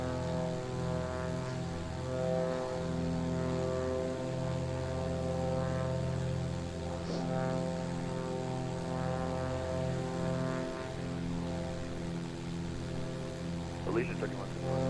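A Beechcraft Sierra BE24 engine in Microsoft Flight Simulator 2020 gives a steady, droning propeller hum with rich, even harmonics. It stays constant throughout, with brief voices faintly over it near the end.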